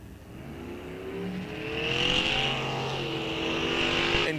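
Drag racing cars launch from the line, one of them a 1979 Camaro, their engines swelling into loud, rising revs that build and pass close by at a bracket racing event.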